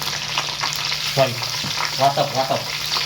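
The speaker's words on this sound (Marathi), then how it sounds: "कढीपत्ता टाकल्यानंतर आपण टाकणार आहे कलेजी" Goat liver and curry leaves sizzle in a hot pan for a dry masala dish, giving a steady close crackle with brief stirring scrapes and swells throughout.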